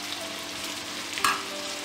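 Julienned onion softening over gentle heat in a frying pan, giving a quiet, steady low sizzle with a brief brighter crackle near the end and no talking.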